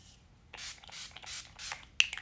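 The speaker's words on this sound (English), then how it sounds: "we're gonna end the look with this, with the Urban Decay All Nighter Setting Spray" Urban Decay All Nighter setting spray hisses in several short, close spritzes from a pump bottle, applied to a face for a Halloween makeup look, with quiet gaps between bursts.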